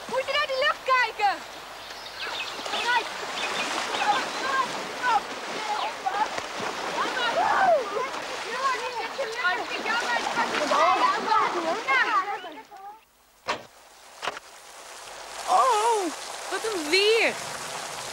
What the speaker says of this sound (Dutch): ik geloof dat het gaat regenen